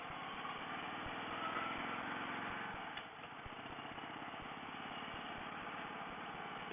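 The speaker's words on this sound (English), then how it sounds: "It gives a very good indication of the torque of these big American engines." Big American car engine idling and pulling, a steady low throbbing drone with faint ticking pulses, holding even with a brief dip in the middle, heard from inside the car.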